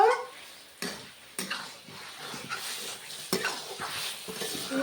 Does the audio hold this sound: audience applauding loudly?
no